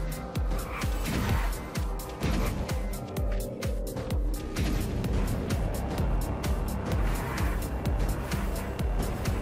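Car driving in the Hot Wheels Acceleracers video game, an engine droning steadily with a run of rapid bumps and skidding noises, loud and continuous throughout, with no clear voice over it.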